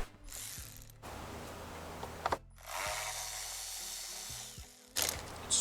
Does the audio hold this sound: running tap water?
no